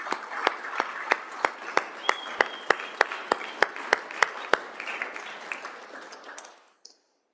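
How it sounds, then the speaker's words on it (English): Applause rings through a state Senate chamber for the Pine Bluffs state championship high school football team and its coaches, a steady roomful of clapping punctuated by sharp loud claps, fading out near the end. "one more round of applause for the Pine Bluffs State Championship High School team"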